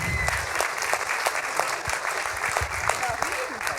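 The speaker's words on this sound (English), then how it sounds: "Can we have a round of applause for these directors?" Festival audience at a short-film screening claps for the directors, a close, steady patter of many hands with some louder individual claps, continuous throughout with a few faint voices underneath.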